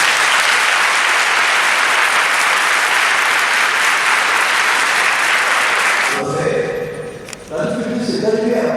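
Dense, loud applause from an audience at a school career day fills the first six seconds, then stops abruptly, giving way to a quieter room with voices and scattered sounds.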